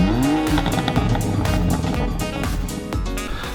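A 2019 BMW M4 Competition with a DCT gearbox revs and drives hard, its loud, close engine rising in pitch through repeated sharp gearshifts and accelerations.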